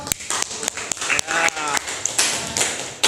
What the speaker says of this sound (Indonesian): kita beri aplaus pertanyaan yang berbobot